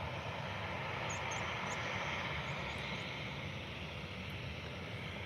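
Transavia Airbus A320neo jet arriving at Faro airport, a faint, steady distant engine roar that holds evenly throughout with no talk.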